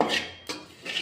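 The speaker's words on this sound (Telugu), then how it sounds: "వేరుశనగపప్పు, ఎండు కొబ్బరి, పల్లీలు, కొబ్బరి ఇలా వేయించుకోవాలి." Peanuts and dry coconut roasting in a pan for a spicy brinjal fry, with a few scraping, rattling stirs against the metal, close and fairly quiet.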